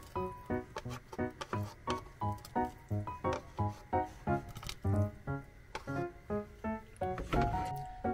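Bone marrow is stirred into a pot of broth while cooking the Veronese dish pearà. Soft, wet squishing strokes repeat in a steady rhythm, close and quiet, with no one speaking.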